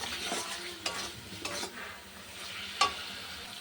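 A masala of green chili, tomato and cumin powder, with a splash of water, sizzles gently in a pan while a spoon stirs and scrapes through it in short, close strokes, with no talking.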